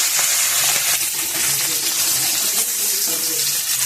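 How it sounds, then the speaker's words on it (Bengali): Large prawns, salted and coated in turmeric, sizzle in hot oil in a pan for a fried rice dish, a steady loud broadband hiss with faint crackles throughout and no talk. "চিংড়ি মাছটা ভেজে নিচ্ছি।"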